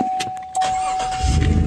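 A GM car from 2014 to 2020, just fitted with a new stretch-type AC belt, cranks briefly and its engine catches, settling into a close, steady idle rumble after a faint warning chime.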